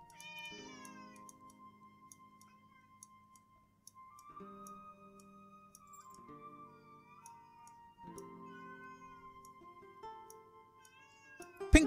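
A cat meows repeatedly in short rising and falling calls over a steady, faint ticking and tonal background, with no speech.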